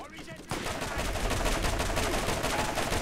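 Rapid gunfire in the Borderlands shooter erupts after a brief quiet start, then hammers on loudly and continuously as a tight stream of shots.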